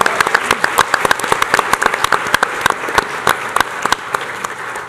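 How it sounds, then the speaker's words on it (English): Applause at a school board meeting for the band: a roomful of people clapping with distinct, close individual claps over a steady crowd patter, fairly loud and continuous. "Please give them a round of applause if you're with me."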